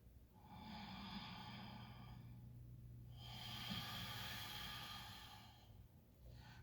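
Slow, deliberate yoga breaths close to the microphone: a long airy inhale, a short pause, then a long exhale, each soft and steady.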